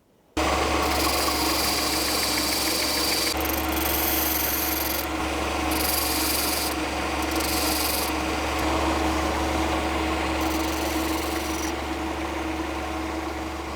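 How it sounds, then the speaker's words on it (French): Shaping a folding knife blade and spring with an iron blade, heard as a loud, close, continuous abrasive grinding and rasping that starts abruptly and keeps going with small shifts in pitch, no talking. "raboter la longueur définitive qui rentrera dans le manche et commencer à donner la forme qui m'intéresse"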